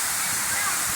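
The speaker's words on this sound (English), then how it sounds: "it's my first time to see a physical waterfall" A tourist waterfall at Kawasan Falls in Bohol pours in a loud, steady broadband rush of falling water, dense and continuous with no breaks.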